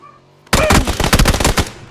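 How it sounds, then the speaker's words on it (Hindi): Rapid automatic gunfire in PUBG Battlegrounds erupts suddenly after a quiet moment, a loud, close burst of dense, rattling shots that continues to the end. "ये क्या फायर कर रहा भाई"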